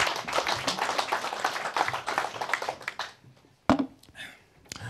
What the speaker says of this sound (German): Ich finde, das ist ein Applaus wert.